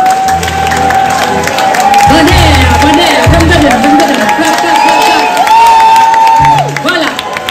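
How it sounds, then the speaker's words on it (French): An audience at a concert applauding and cheering, a continuous crowd roar with clapping and whoops, while an announcer speaks loudly over it and music tones sound. "Un petit applaudissement."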